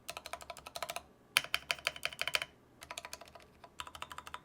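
Clacky mechanical keyboard typing tests tuned stock plate-mounted stabilizers: close bursts of rapid keystrokes separated by short pauses, crisp and fairly quiet, with no voices.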